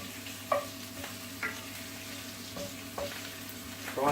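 Food fries with a soft continuous sizzle in a pan while a wooden spoon stirs and taps it in several brief, separate scrapes and knocks.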